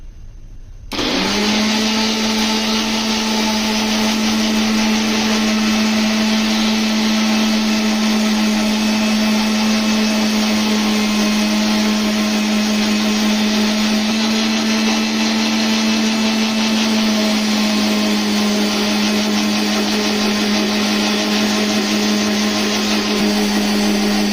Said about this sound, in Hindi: 3 मिनट हमने मशीन चला के इसको अच्छी तरह बीट किया है